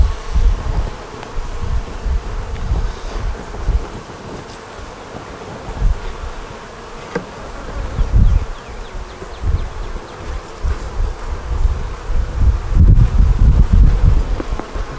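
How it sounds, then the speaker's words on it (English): Bees buzz continuously around the microphone, swelling and fading as individual insects fly close, with light rustling and occasional wind noise. "These are all homegrown bees."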